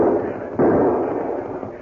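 A single loud gunshot crack in an old time radio western drama, sharp onset followed by a decaying boom, no voices over it.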